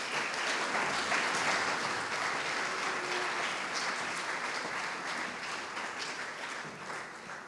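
An indoor audience at a celebration of the Cirkulane tamburica ensemble's 30th anniversary gives a long, dense round of applause. It is loudest at first and tapers slightly over about seven seconds.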